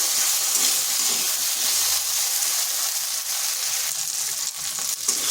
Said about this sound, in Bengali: মিডিয়াম আছে 5 থেকে 7 মিনিট ভেজে নিচ্ছি।